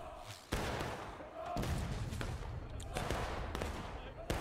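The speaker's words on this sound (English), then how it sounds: "that cannon fire! That went across my face!" Several sharp, heavy booms ring out over a loud background roar, spaced a second or so apart, like cannon fire.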